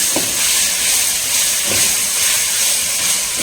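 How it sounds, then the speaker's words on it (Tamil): Spices tempering for pirandai (adamant creeper) chutney give off a steady, loud sizzling hiss in hot oil, broad and continuous with a few faint clicks, and no one speaks. "சட்னிக்கு தாளிப்பு கொடுக்கணும்."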